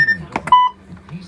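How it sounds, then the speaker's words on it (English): A Mountbatten Brailler gives a single short, steady electronic error beep signalling a command was not accepted, clear and close amid faint background tones. "if you hear this beep, that means the command has not been accepted."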